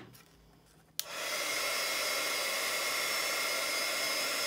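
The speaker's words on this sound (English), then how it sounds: "I'm just going to give it a little heat" A heat tool switches on with a sharp click after a quiet second, then blows a steady, close airy whoosh while drying stamped ink on a card.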